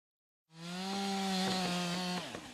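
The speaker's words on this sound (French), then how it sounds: "Tronçonneuse en main, Fabien et Alexandre sécurisent la Vézère en" Chainsaw revving up and cutting wood while clearing the Vézère river ahead of kayak championships, a loud, close engine whine starting abruptly and holding steady before dropping off as the cut bites.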